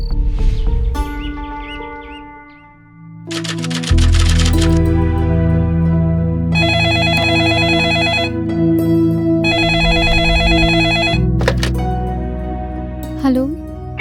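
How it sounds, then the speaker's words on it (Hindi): Two long bursts of a shrill electronic telephone ring, one after another, over loud dramatic background music. "कितनी देर से तुम्हें फोन मिला रहा हूँ मेघा"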